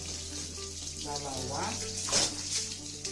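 Washed clothes from a washing machine are dropped into a basin of water, giving a close splash and slosh under a running-water background while someone speaks.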